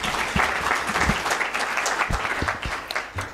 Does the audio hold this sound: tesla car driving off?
no